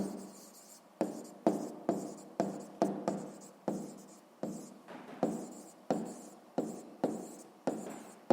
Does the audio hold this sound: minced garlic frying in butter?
no